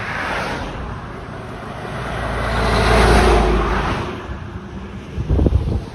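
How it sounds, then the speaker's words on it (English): Steady broadband rumble of road traffic and wind from a moving vehicle in Vermont, swelling louder in the middle, with a few knocks near the end. "Sorry for the road noise."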